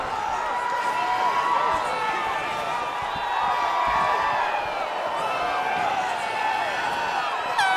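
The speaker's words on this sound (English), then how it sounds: "This crowd is on its feet." A video game arena crowd in EA Sports UFC 3 roars and cheers in a continuous loud wash with whoops rising through it, sustained for several seconds after a flyweight bout.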